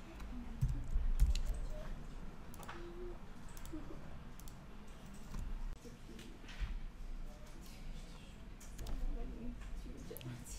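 Sparse, light clicks of a computer keyboard being typed on while working in Illustrator, scattered irregularly over a low room murmur and faint background voice.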